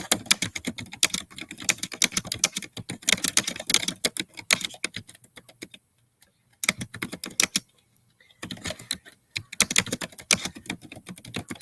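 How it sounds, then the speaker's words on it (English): Rapid, continuous typing on a computer keyboard, close and crisp, with two short pauses before the clatter of keys resumes. "So I'm typing a couple of very small chips on the base of the item"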